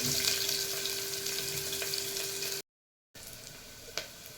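Half a large onion frying in coconut oil inside a pressure cooker, giving a steady, dense sizzle that runs unbroken, cuts out for a moment, then resumes at a slightly lower level.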